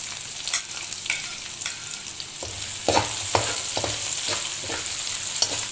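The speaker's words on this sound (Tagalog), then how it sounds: "Lalagyan na natin yung ating sibuyas." Onion dropped into a pan with garlic for Marinduque batchoy, a sizzle that swells and thickens partway through, with scattered utensil scrapes and clacks as it is stirred up close.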